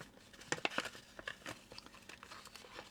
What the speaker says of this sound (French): alors du scotch, du double face, un petit point de colle